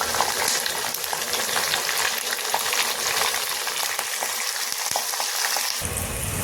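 Spices and asafoetida frying in hot oil for a sambar tempering, a continuous dense sizzle with crackling pops, close and steady throughout without any talking.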